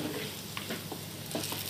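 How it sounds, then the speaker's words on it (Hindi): Curry leaves and green chilies frying in hot oil for a mutton fry, a steady soft sizzle with a few faint stirring scrapes, fairly quiet and without talk. "ये करियापा के पत्ते और ये हरी मिर्ची थोड़ी अच्छी तली गई"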